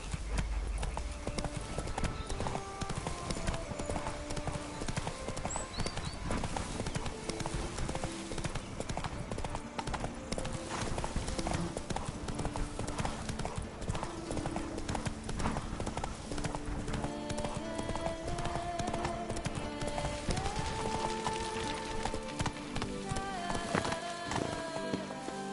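In The Witcher 3 video game, horse hooves clip-clop in a steady, even rhythm throughout, carried over a constant music and ambience bed.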